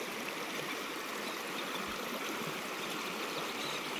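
Rapids at the head of a stream on the Paimionjoki river, a steady broad rush of flowing water at moderate distance, continuous and even, with no voices.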